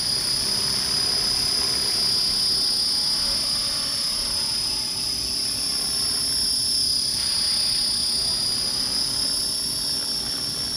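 Radio-controlled T-Rex model helicopter in flight, a steady high-pitched rotor and motor whine held continuously at an even level throughout, with no talking.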